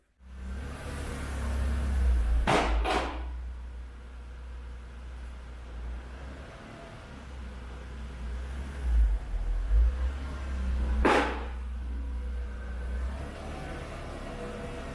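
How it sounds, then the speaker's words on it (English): A Mk4 Supra on freshly fitted KW V3 coilovers rolls slowly back and forth, giving a low, steady rumble of tyres on the ground with two brief louder whooshing swells and a few soft thumps. "I'm gonna roll it back and forward again just to check the ride height, make sure it's settled"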